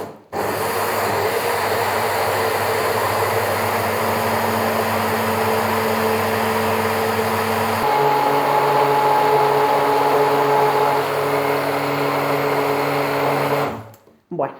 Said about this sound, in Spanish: Si tenéis una batidora de vaso, incluso mejor. Baten muchísimo más fino, pero si no, pues oye, como yo, con una de mano.